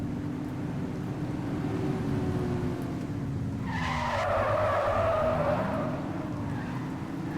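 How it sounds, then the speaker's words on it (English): Cars speed along a road in the video game The Precinct, engine drone running steadily underneath as one tire screeches into a rising, wavering skid midway through, fairly distant and moderately loud. "Speeders are out in force today."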